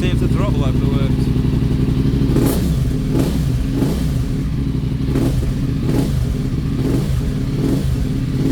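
A BMW F850GS motorcycle engine, its throttle fault just repaired, idles steadily and then revs in a series of short, sharp bursts, loud and close, with a voice talking over it.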